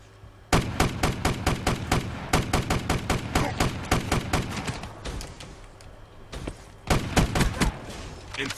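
Sustained rapid automatic gunfire in Call of Duty: Black Ops 3 Gun Game mode, loud and close, in long bursts with a brief pause before another burst resumes.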